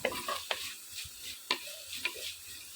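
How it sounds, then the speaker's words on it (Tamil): Onions, mustard seeds and curry leaves sizzle softly in hot oil in a pan while a spoon stirs and scrapes, giving several sharp metallic clinks at irregular intervals. "எண்ணெய் ஊற்றி கடுகு போட்டு வெங்காயம் கருவேப்பிலை போட்டு வதக்குறோம்"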